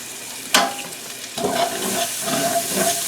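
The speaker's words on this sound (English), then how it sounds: "Let me get this butter melted and I'll be right back." Butter in a pan crackles and sizzles, with a sharp clatter as it goes in, followed by a steady frying hiss with scraping stirs.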